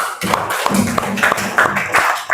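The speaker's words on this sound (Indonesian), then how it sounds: "Oke, tepuk tangan buat Mbak Ade." A classroom audience of Islamic education teacher trainees claps hands briefly, a loose scatter of sharp taps and claps close by over room noise.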